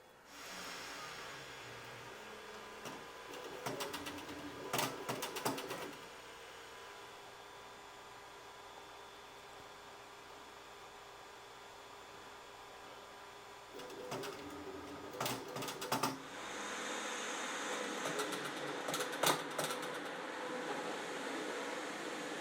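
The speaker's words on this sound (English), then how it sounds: "Let's have a look at the poop chute and nozzle wiper in action." A Creality K2 Plus 3D printer's poop chute and nozzle wiper run in bursts, with rapid mechanical rattling and scraping against a quiet motor hum, near and moderately loud.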